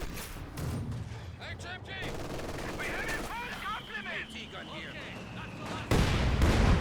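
Heavy mortar barrage in the Company of Heroes 2 video game, a 2v2 battle: a dense run of booming impacts and crackling gunfire, with a sudden loud blast near the end, all under a caster's ongoing commentary.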